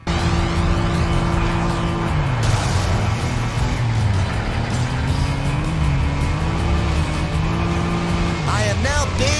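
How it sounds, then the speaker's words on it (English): Powerful car engines roar continuously in a chaotic PS2 racing game, with shifting engine pitch, tire squeal and crash impacts mixed loudly together, while a voice talks over the action. "The crash effects are satisfying, engine noises are mostly powerful"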